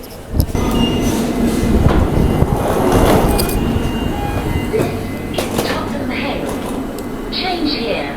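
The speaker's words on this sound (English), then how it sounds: "This is the Victoria Line train." A London Underground Victoria Line tube train rumbles along on the rails, with a loud rattling roar, then wheel squeal and door chimes near the end, while people talk over it.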